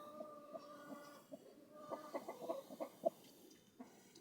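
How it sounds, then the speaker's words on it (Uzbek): A Brahma hen makes soft, quiet clucks in a loose series, a few sharper notes near the end, with no talk over them. "Brahma tovuq"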